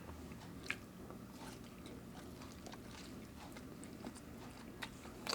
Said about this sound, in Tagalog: Ito, isaw ng manok. Para po sa inyo ang aming unang kagat.